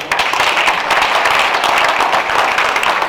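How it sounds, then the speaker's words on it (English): Loud church gala audience applause, dense clapping from many hands close by, sustained and steady without a break for about three seconds. "please clap for yourself"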